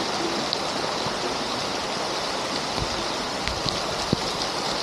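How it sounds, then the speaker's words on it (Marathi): Flood water rushes along a village road in Konkan during heavy rain, a steady loud broadband roar of flowing water with occasional splashes. "गावाच्या रस्त्याने एवढा पूर जातोय, एवढं पाणी जातोय"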